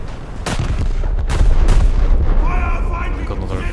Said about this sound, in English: Yeah, there goes some of my secondary shells.